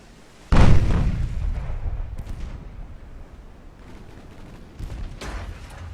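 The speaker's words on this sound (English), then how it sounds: "Torpedoes have been launched" Torpedoes launch from a warship in the naval battle game Ultimate Admiral: Dreadnoughts: a sudden loud, deep boom fades into a long rumbling tail, followed by a few fainter thuds and bursts. No talking.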